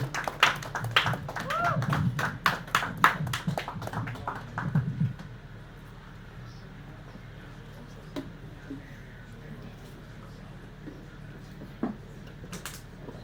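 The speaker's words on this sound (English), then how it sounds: "Please a round of applause for him" A short round of applause at a live spirit festival gathering, clear claps for about five seconds that then fade into quiet room tone, with a few stray taps and faint talk.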